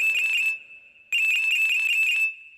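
A mobile phone rings with an electronic melody, one short burst of rapid repeating tones, a brief pause, then a longer burst, loud and close with no other sound.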